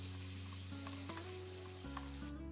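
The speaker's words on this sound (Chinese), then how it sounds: "快速的翻炒出香味儿" Shredded onion stir-fries in a little leftover oil in a pan with a steady soft sizzle, the quiet crackle running continuously with faint spatula scrapes and a low hum beneath.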